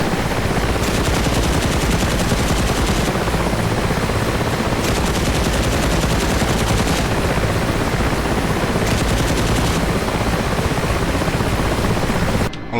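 The door gunner of an Mi-8 Hip helicopter in DCS World fires a machine gun in long, rapid bursts. The loud, steady rotor and engine roar fills the whole stretch and nearly masks the gunfire.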